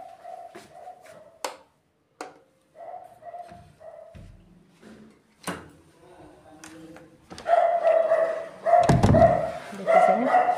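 A dog barks at unfamiliar people in a series of sharp, separated barks close by, some softer yips between them, building to a louder, denser burst of barking toward the end.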